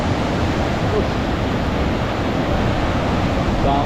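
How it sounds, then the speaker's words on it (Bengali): A waterfall pours between rocks on a river in Jharkhand, a loud, constant broadband rush of falling water heard up close without a break. "মহাবীরি ফল দেখো জল পড়ছে পাথরের মাঝখানে"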